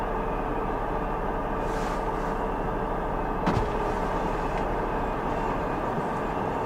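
Norfolk Southern freight train NS23K rolls past through heavy snow, a loud steady broadband rumble of wheels and cars with a brief sharp clank partway through.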